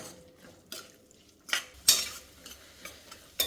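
Stirring and mixing cucumber rice in a pan, with a spoon scraping and clinking against the pan in several separate strokes, some louder than others, close by and without any voices.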